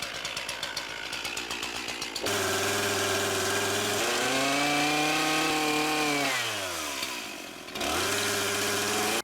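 A small two-stroke chainsaw sputters, then roars steadily at high revs while cutting cedar wood, its pitch dipping and rising as if under load, then settling back; loud and close.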